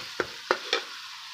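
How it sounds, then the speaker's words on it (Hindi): Chopped onion and tomato fry in a pan for potato egg curry, a steady soft sizzle broken by three sharp clinks of a spoon stirring against the pan. "प्याज के साथ इसको मिक्स करके अब इसको फ्राई करेंगे अच्छे तरीके से।"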